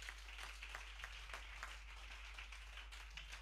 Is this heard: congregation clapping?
yes